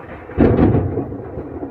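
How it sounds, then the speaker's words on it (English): A short low rumble of thunder rolling in outdoors near a car under repair in a garage, rising quickly and fading over about a second. "we have some thunder going on too"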